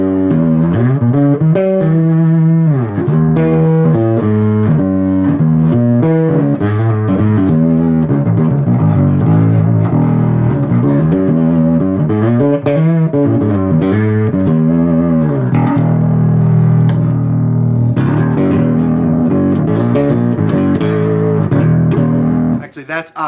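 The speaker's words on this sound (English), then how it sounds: "Now you can also take and put it on octave and distortion." A heavily distorted electric guitar through a RedWitch Factotum octave/drive pedal plays sustained riffs and chords, thick and buzzing, continuously loud throughout.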